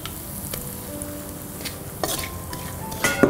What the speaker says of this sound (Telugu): నేతిలో ఈ కొర్రపిండిని వేపుకుందాం.